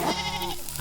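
A sheep in a video game lets out a short, wavering bleat, loud and close, lasting under a second with no talk over it.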